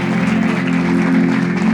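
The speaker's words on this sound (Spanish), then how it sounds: "¿Le puedes dar un aplauso al Rey de Gloria? Dale un aplauso y dale gracias a Él." Congregation at a Christmas church service applauds, a steady burst of clapping over a sustained low musical drone, continuous and fairly loud from start to end.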